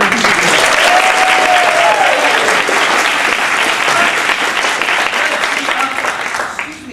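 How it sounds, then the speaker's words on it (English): Party guests applaud together at a going-away party, a loud, dense burst of clapping that holds steady for several seconds before easing slightly, with some voices mixed into the crowd noise. "hurry up and clap because I know it won't last very long"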